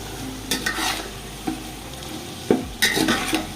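Mutton pieces coated in ginger garlic paste fry and sizzle in a pot for spicy biryani while a spoon stirs them, scraping and knocking at intervals over a soft, steady crackle.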